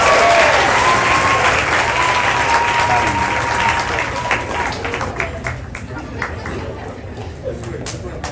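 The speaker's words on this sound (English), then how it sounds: "Everybody give him a big round of applause" An audience at a school graduation ceremony gives a sustained round of applause, loud and dense at first, then gradually thinning into scattered claps as chatter and murmuring voices rise beneath it.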